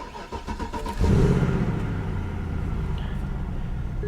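A BMW engine cranks and catches about a second in, then runs rough with an uneven, lumpy idle, loud and close, with a faint beep near the end.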